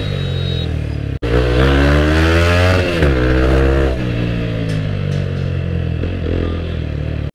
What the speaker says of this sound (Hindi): अभी बाइक चल रही है भाई एक के पीछे एक